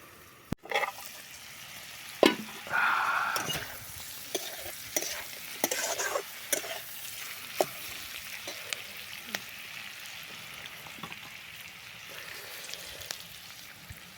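Onions sizzling in a pan while being stirred for a pork and mustard leaf dish, soft steady frying hiss broken by scraping strokes and clinks of a utensil against the pan.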